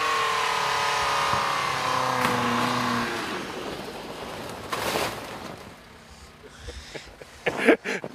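A 2014 Mitsubishi Outlander Sport engine revs while driving off-road in snow, a sustained drone that fades out partway through, followed by scattered crunching and bumping noises.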